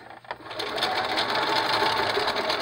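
A sewing machine runs continuously while stitching a medical mask cover, a close, even mechanical whir that starts after a brief pause and holds steady to the end.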